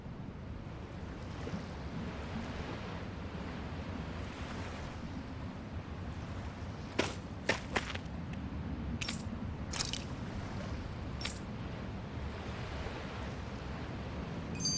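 Ocean surf rolls steadily as a ship prepares to set sail in Tales of Arise, a constant wash of waves and wind noise with a few brief sharp clinks partway through and no voices.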